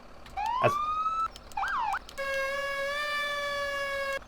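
Electronic emergency vehicle siren tones in a video game, FS:911, rising wails then a yelping sweep and a long steady wail, clear and prominent with no talking.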